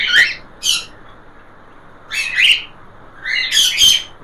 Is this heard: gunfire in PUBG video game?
no